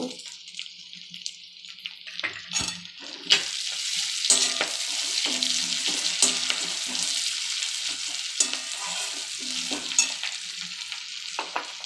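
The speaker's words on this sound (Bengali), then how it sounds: "রসুনটা একটু ভাজা হবে অল্প ভাজবো বেশি ভাজবো না" Chopped garlic added to onions cooked in fish oil, for a fish-head and vegetable chorchori, starts sizzling in the pan: the frying hiss rises and stays steady, with frequent spatula scrapes and taps, up close and without speech.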